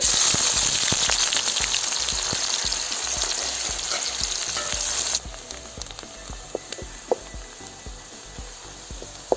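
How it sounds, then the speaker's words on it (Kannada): Onions fry in a pan for a dry fish and potato curry, a loud, close, continuous sizzle with scattered crackles and pops that drops abruptly to a quieter, sparser crackle partway through, with no talking. "ಈರುಳ್ಳಿ ಹಾಕ್ತಾಯಿದ್ದೀನಿ. ಈರುಳ್ಳಿ ಫ್ರೈ ಮಾಡ್ಕೋಬೇಕು."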